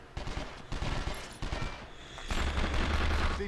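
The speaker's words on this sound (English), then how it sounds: "They're shooting at me." Enemy gunfire in the PlayStation 2 game 24: The Game, bursts of rapid shots and a dense fusillade with rumbling impacts, loud and close, in a busy game mix.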